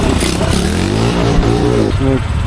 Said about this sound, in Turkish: ben bu motora ilk defa biniyorum da